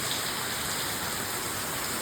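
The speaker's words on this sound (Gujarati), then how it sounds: "અત્યારે પિત્તેપુરમાં ભૂકા કાઢે વરસાદ આવ્યો જો" Heavy rain with hail pours down nonstop in a village, a dense, even hiss filling the space close by.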